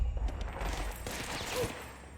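Rapid gunfire from the video game Control, a dense, continuous burst of shots throughout, loud and close, with no talk over it.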